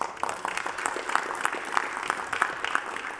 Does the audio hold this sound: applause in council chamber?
yes